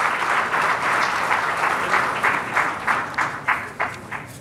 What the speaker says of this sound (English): I'd like to thank you formally with a warm round of applause for all the support you have given us